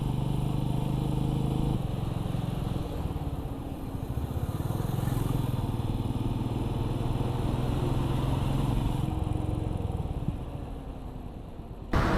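Motorcycle cruising on a highway at roughly 80 to 100 km/h with a passenger on the back, a steady loud engine drone mixed with wind rush throughout, easing slightly near the end.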